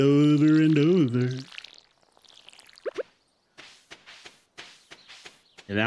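A watering can pours water in the Stardew Valley farming game, giving a few short, soft splashy bursts after a voice speaks briefly at the start.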